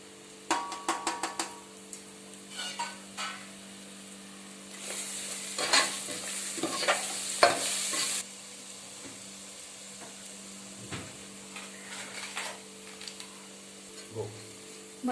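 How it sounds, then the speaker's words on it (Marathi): Ground chili, turmeric, coriander powder and garam masala frying in oil with tomato for a Malwani clam curry, heard as an intermittent sizzle with frequent scraping stir clatters and a brief louder burst midway, with no voices. "मसाला आपला छान तेलावर परतून झालेला आहे।"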